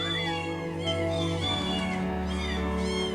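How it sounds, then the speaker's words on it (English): Cat screaming and caterwauling, loud and continuous for the whole stretch, with harsh wavering yowls rising and falling over a steady background hum, heard alone without talk. "That cat was screaming when he was trying to take that D."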